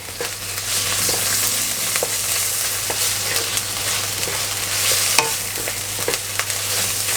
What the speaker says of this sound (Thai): เราก็ผัดจนเนื้อหมูเริ่มจะสุกอะครับ